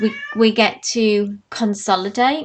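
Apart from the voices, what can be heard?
cat meowing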